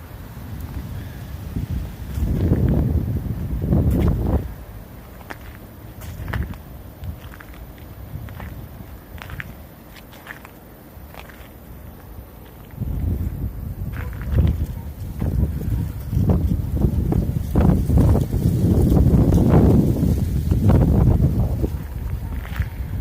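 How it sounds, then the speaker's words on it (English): Gusty wind buffets the microphone in low rumbling bursts, rising and easing over time, with occasional footsteps or handling noises, in Grove Street Cemetery, New Haven, Connecticut, in February. "Hopefully it's not too blustery because it is a little bit windy here today."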